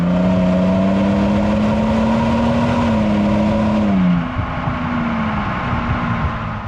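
The V6 engine of a 2024 Toyota Sequoia TRD Pro revs loudly, holding a high rising pitch before dropping back to a lower idle.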